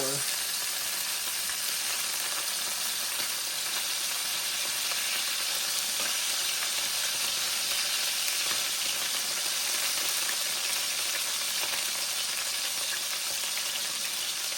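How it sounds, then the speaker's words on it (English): Burger ingredients sizzle in a pan on a stove set to medium heat, a steady, close, dense frying hiss that runs unbroken throughout, with no talk over it. "So these are still sizzling."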